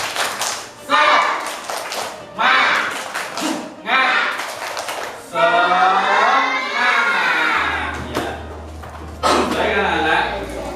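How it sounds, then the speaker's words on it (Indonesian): Schoolchildren in a classroom perform a spirited rhythmic clap routine, bursts of quick patterned clapping alternating with loud group chanting and shouting, close and energetic. "Coba tepuk semangat"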